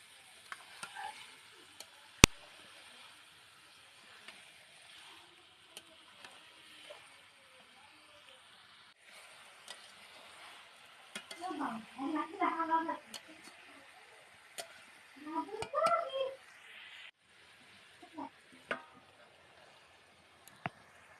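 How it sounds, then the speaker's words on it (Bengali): Chicken and potatoes with spices cooking under a lid in a pan, a faint steady sizzle with a few louder bursts of frying and stirring, occasional clicks, no talk. "মশলার সাথে মাংসটা মাখানো হয়ে গেলে ভালোভাবে এবার ঢাকনা দিয়ে কষে নেব মাংসটা।"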